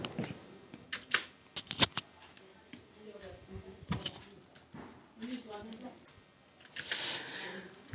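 Typing on a computer keyboard while entering Tamil text in the TAU Marutham font, heard as scattered clicks and short bursts of keystrokes under a person talking throughout.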